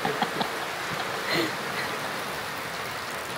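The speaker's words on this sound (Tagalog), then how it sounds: "Ayan, ang lakas ng ulan." Heavy rain falls steadily on Mount Pulag, a dense, continuous hiss close by with a few sharper drop impacts early on and no talk over it.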